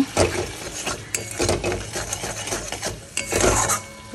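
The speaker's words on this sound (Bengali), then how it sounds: "এই যে সর্ষে পোস্ত বাটাটা দিয়ে কষিয়ে নিলাম" A spoon scrapes and stirs a thick mustard and poppy seed paste around a pan in uneven strokes, with light metallic knocks and a soft sizzle underneath.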